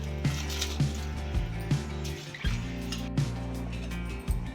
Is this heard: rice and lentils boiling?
yes